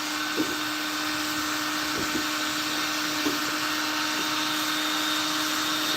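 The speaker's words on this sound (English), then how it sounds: "So let's try the heat gun now." A handheld heat gun runs steadily nearby, giving a constant loud whirring blower hum with a few faint knocks and bumps during use, and no speech.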